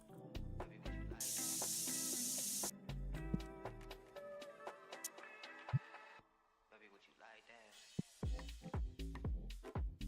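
Spray can hissing in TCG Card Shop Simulator: a bright burst of about a second and a half rises amid clicks and short game sounds, with a person talking over the scene.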